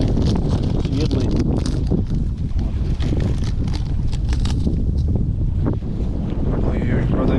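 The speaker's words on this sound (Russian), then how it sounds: "правда ветер у нас серьезный" Strong wind at a lakeside feeder-fishing spot for bream, buffeting the microphone in a loud, constant low roar with gusty bursts, and a voice partly buried beneath it.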